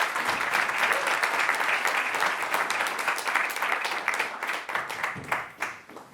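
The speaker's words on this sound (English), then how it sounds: "And a round of applause, please." Audience applause at a Science Week event, a steady burst of many hands clapping that thins out into a few scattered claps as it fades toward the end.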